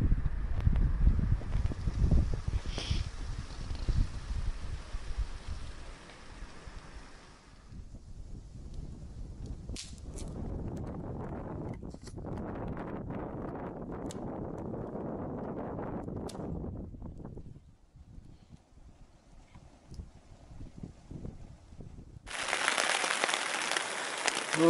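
Gusty storm wind roars and flaps in long waves around a tent on a river in Karelia, easing off briefly before a harsh, hissing burst returns at the end.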